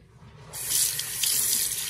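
Household water tap switched on partway through, its steady hissing flow into a sink rising after a quiet start and running on loudly to the end.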